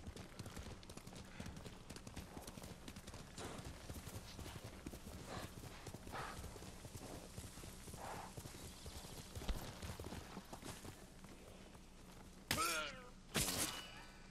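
Steady rhythmic hoofbeats of a galloping horse in the video game Ghost of Tsushima run throughout, with a few brief whooshing swells near the end.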